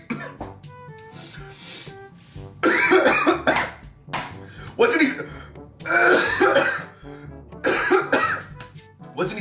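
Repeated harsh coughing fits follow eating Guacamole Takis while gaming, loud and close, in bursts broken by short pauses and strained breaths, with a few spoken moments between them.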